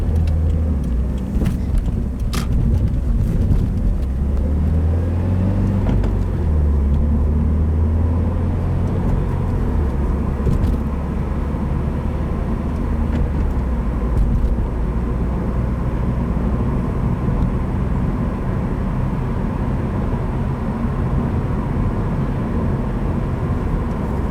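A 2015 Subaru WRX with a Stage 1 map pulls hard on a road, its engine rumbling low and steady from inside the cabin with constant road noise throughout and no talking.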